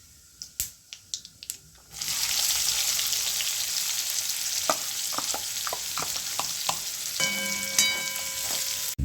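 Sharp clicks and taps from a spoon on the pan come first, then sliced onion hits hot oil in a kadai with mustard and cumin seeds, and a loud steady sizzle follows, broken by scraping stirs and knocks.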